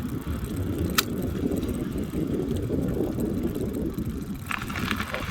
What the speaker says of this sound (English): Car past.